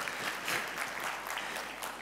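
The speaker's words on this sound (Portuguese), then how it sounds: "Quem gosta do PowerPoint, bata palmas." Dense audience clapping at a PowerPoint presentation fills the whole stretch, a steady, moderately loud wash of many hands with no voices over it.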